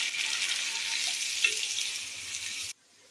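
Sliced onions fry in hot oil with a bright, steady, hissing sizzle, close and fairly loud, then it cuts off abruptly near the end; no voices.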